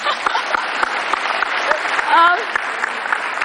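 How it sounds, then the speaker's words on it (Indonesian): Studio audience on an Indonesian talk show breaks into steady applause, a dense wash of clapping that holds at an even level throughout, with a few brief cheers or whistles rising above it near the middle. "kita kasih tepuk tangan dong"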